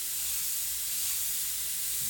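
Airbrush spraying paint onto a t-shirt while painting a lion, a steady continuous airy hiss lasting throughout at even loudness, close to the microphone with no talking.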